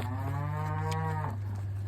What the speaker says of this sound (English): we're gonna get all these cows off this pad here